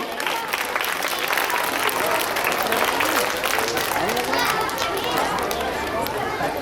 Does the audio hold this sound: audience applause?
yes